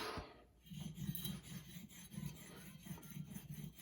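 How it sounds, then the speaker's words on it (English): A marking knife stroked back and forth on a 1200 grit extra fine diamond plate, a faint rhythmic rasping of about a dozen even strokes, close and quiet. "Let's go up to 1200 grit. This is the diamond plate. This is the extra fine."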